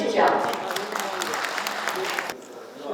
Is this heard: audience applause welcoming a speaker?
yes